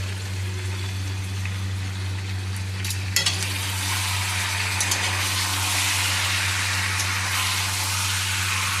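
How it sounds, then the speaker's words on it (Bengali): Chicken curry meat fries slowly in oil, giving a steady close sizzle and hiss over a low constant hum, with a few brief scrapes of stirring and no voices. "এইভাবে আস্তে আস্তে ভালো করে মাংসটাকে কষাতে হবে"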